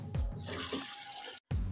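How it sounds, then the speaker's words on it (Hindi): A glass of water is poured into a blender of pomegranate and beetroot for juice, a steady close splashing stream that breaks off briefly near the end before resuming. "अभी हम इसमें एक गिलास पानी शामिल कर देंगे।"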